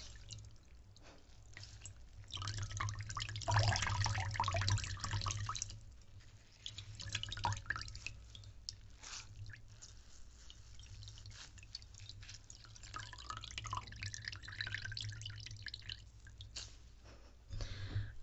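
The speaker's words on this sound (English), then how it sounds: "I have a nice clean cloth with some water, so I'm just gonna wring this out." A clean wet cloth wrung out by hand during a close-up ASMR personal care session, with soft squeezes and water trickling and dripping in bursts, close and quiet, without speech.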